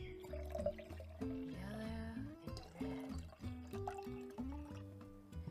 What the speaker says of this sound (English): I'm gonna fill a little more water in each one